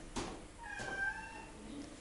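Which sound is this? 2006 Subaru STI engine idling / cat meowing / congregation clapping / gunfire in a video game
cat meowing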